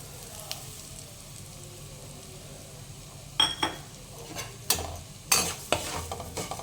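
Bread crumbs are stirred into a spice masala in a pan for a Mughlai paratha filling, with a soft scraping stir followed by several sharp clinks of the spoon against the pan.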